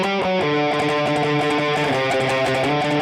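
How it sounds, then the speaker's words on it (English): Electric rhythm guitar plays a riff without palm muting: loud, distorted open chords ring out and sustain into one another in a steady driving pattern, with no voices. "If we didn't use palm muting, it would sound like this."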